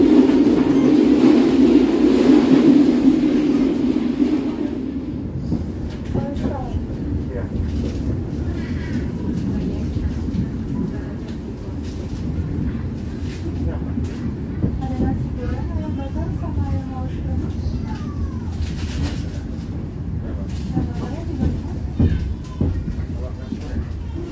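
Cabin noise aboard the Sritanjung passenger train running on old rails, a steady loud low rumble with clattering throughout, with people talking over it.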